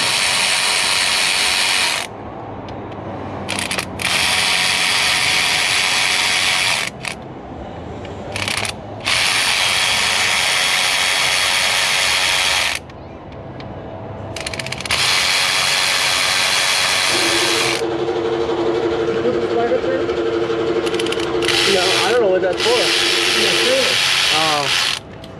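On a 2005 LLY Duramax head gasket job, a ratchet with an Allen socket runs in soft bolts, giving long loud stretches of fast clicking broken by short pauses, with a voice speaking briefly near the end.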